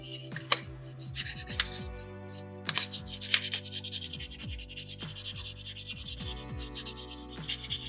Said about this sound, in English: And then with sandpaper 3, just being thorough.